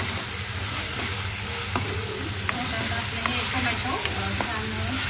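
Tomato sautéing in a pan for a spicy black masala chicken, a steady close sizzle and fry with occasional scrape and clink of a spoon stirring through it.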